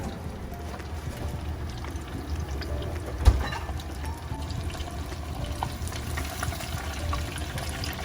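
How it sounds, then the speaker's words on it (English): Panko-breaded Alaska spot prawns deep frying in hot oil in a fryer, a steady soft bubbling sizzle throughout with one brief thump partway through. "Look at those babies fry."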